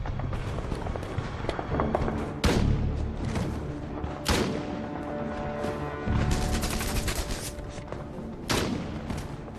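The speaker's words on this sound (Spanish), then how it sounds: "francotiradores estadounidenses los disparan desde el castillo" Repeated sniper gunshots crack out at irregular intervals, some sharp and close, others duller booms, over a continuous rumbling background, in a World War II battle scene.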